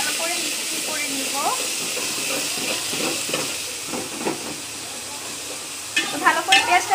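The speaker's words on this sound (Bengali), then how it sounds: "এখন আমি এখানে পেঁয়াজ কুচিটা দিয়ে দিচ্ছি" Chopped onion cubes frying in hot oil in a home kitchen pan for a beef lung and potato curry, giving a steady broadband hiss throughout with occasional stirring clatter and a few louder scrapes near the end, under intermittent talk.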